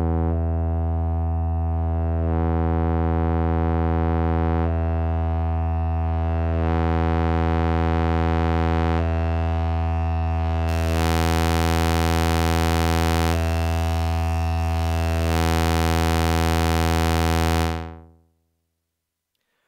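A sustained synthesizer tone from the Carpenters SAW/DUST floppy disk sound library, played as a single held key, with the waveform's upper harmonics swelling and shifting in repeating waves for about eighteen seconds before cutting off cleanly.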